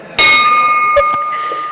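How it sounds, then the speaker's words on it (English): A bell rung at a Rotary Club meeting in Oakland gives one sharp, loud strike, then a sustained ringing tone that decays slowly, with a couple of faint knocks in the room. "I want to ring the bell for them"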